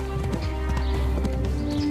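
Rhythmic hoof clip-clop from a horse being ridden in the medieval game Kingdom Come: Deliverance, steady repeated beats close up over a constant low background hum.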